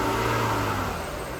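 A 2003 Audi A6 engine revs steadily at close range, a continuous mid-pitched motor drone that eases slightly over the short stretch, with no voices.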